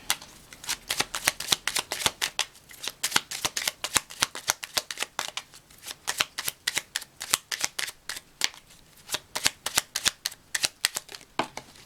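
Tarot cards being shuffled close up, a long run of rapid riffling flutters and crisp slaps repeating in quick irregular bursts with short pauses, with no voices.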